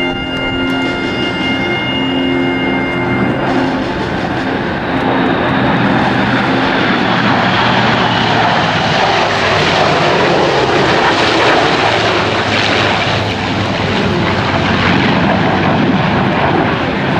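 A USAF Heritage Flight formation passes overhead at the 2011 Tyndall AFB airshow. A loud, sustained engine roar with whining tones fills the whole stretch and stays steady from start to finish, with no voices.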